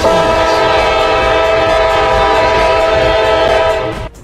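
A train horn blares loud and steady for about four seconds, its sustained stacked tones holding over rumbling rail noise, then cuts off abruptly near the end.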